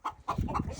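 A hen clucks close by among a flock, giving a few quick, low, throaty notes in under a second.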